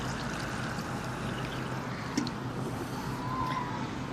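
Water is poured steadily onto a lavender plant in a garden bed with a soft, continuous splashing trickle, plus one brief knock partway through, and no talking.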